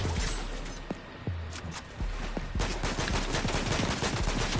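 Gunfire rattles in a Fortnite match, a few separate shots followed by sustained rapid bursts, sharp and fairly close over a steady game background.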